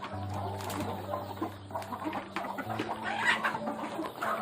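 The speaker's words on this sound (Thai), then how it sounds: "ที่ให้อาหารลูกไก่ ทั้งลูกไก่แล้วก็ ไก่แม่พันธุ์นะครับ" Chickens and young chicks cluck steadily around a rural backyard feeding spot, hens and chicks mixed together in a busy, continuous chorus with close, overlapping calls throughout.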